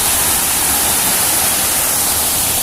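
Kavaladi waterfall near Ratnagiri pours in a loud, unbroken roar, a dense steady rush of falling water with no pauses or voices.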